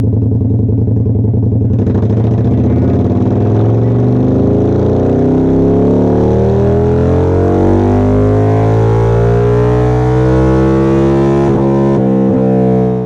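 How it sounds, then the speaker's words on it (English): An Indian FTR 1200 motorcycle's V-twin engine starts after a brief quiet moment, then rumbles loud and close with a deep burbling idle and rising revs, with a few blips near the end. "The FTR 1200 is powered by none other than the burbling American V-twin"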